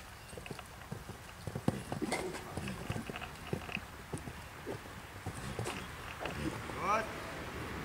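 Horse hooves clip-clop on the ground during a riding training session, a run of near, rhythmic hoof strikes with a trainer's voice talking over them.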